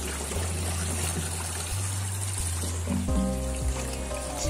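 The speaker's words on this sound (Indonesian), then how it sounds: "kita tiriskan airnya" Water trickles and dribbles steadily from washed taro stems as they drain in a dim home kitchen during Sasak-style cooking, with a brief tonal hum joining near the end.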